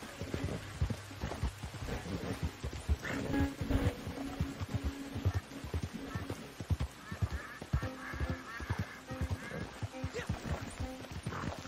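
Horse hooves clopping in Red Dead Redemption 2 online, a steady run of soft, evenly spaced hoof beats with some game ambience and tonal sounds layered over them.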